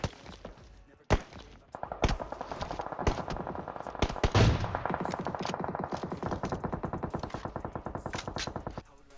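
Gunfire in the shooter PUBG Mobile: dense rapid bursts of automatic fire crackle almost continuously, with a few heavier isolated shots early on, all loud and close.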